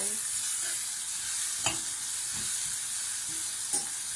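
Diced onions sizzling in a frying pan for a jackfruit vindaloo curry, a steady close hiss with a few soft stirring scrapes and no talk.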